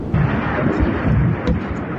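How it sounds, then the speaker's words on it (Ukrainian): A series of explosions from drone strikes in Makiivka and Yenakiieve, Donetsk region: a deep rumbling roar with booming thuds rolling continuously, loud and dense, like distant blasts merging together, no voices. "У Макіївці та Єнакієвому на Донеччині пролунала серія вибухів."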